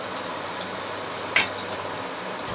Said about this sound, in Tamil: இப்போ காய்ந்த மிளகாய் நல்ல பொன்னிறமாக வறுத்து வந்துருச்சு.